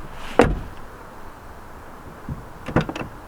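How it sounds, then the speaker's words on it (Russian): Door of a Mercedes W203 car shuts with a sharp thud near the start, followed by a second thump and rattle about two seconds later, in a quiet cabin. "Я могу закрыть дверь, и я ее закрыл."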